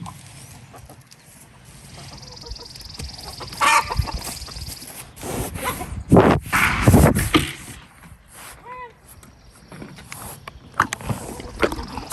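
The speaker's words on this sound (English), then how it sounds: "Go that way and scare that chicken over here." Backyard chickens cluck and squawk near a garden bed, with scattered bursts of clucking, some rustling and flapping over a low outdoor background and no talk.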